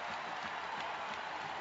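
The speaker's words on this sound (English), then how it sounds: "the Tar Heel fans are on their feet cheering here at Ford Field" Tar Heel basketball fans at Ford Field cheering and applauding at halftime of a national championship game, a steady distant wash of crowd noise and clapping, fairly faint.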